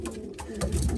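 A racing pigeon coos close by, a single soft, low throaty call lasting about a second, heard alone without talk.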